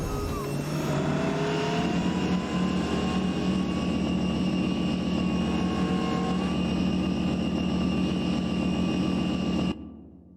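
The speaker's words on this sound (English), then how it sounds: "when our foot's on the gas, we've got the Super Pursuit mode jet sound" A jet-like whine from the Knight Rider Super Pursuit mode sound on a custom battle truck in American Truck Simulator, a loud, steady roar with rising whistling tones that runs continuously, then cuts off abruptly near the end.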